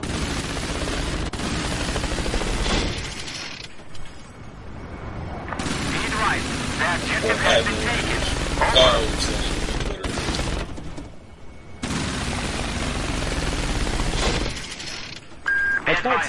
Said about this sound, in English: Or I thought it seemed to hit trees with the AA gun.